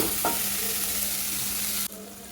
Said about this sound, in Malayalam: ഇത് ആഡ് ചെയ്തിട്ട് നമ്മൾ നല്ലപോലെ ഒന്ന് മിക്സ് ചെയ്ത് കൊടുക്കുക.